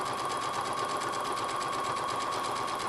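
A sewing machine stitching random quilting on a rag quilt, a fast, even mechanical whir with a rapid needle rhythm running continuously, close and steady.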